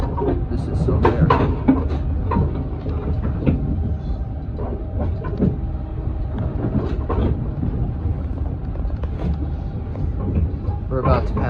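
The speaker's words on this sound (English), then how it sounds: "They hear nice train sounds." Riding aboard a Kawasaki M8 train on the Harlem Line, a steady low rumble of rolling wheels and car noise fills the whole stretch, with occasional voices talking over it.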